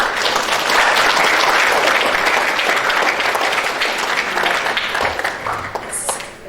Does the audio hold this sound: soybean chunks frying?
no